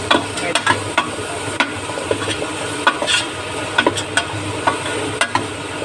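Carrots, potatoes and garlic are sautéed in a pan for Filipino-style chicken curry, giving a continuous loud sizzle broken by frequent sharp clicks and scrapes of a spoon stirring close by.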